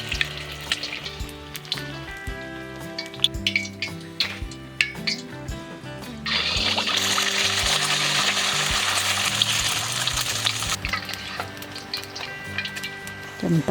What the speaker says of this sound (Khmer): ហើយខ្ញុំនឹងបន្តចៀនពងទារហូតដល់អស់